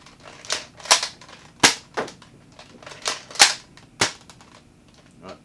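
A Nerf blaster fires foam darts, AccuFakes among them, in a string of sharp snapping pops, about seven or eight irregular shots close to the mic, with no talking.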